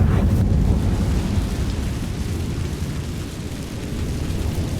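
A fiery Confringo blasting spell explodes in the video game Hogwarts Legacy: a loud booming burst that rolls into a long, heavy rumbling roar, with no voices.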